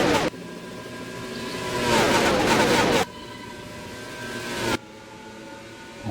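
Race cars circling an oval track during an online racing series event roar past in loud, sustained waves of engine noise, with abrupt shifts in pitch and level as the pack moves.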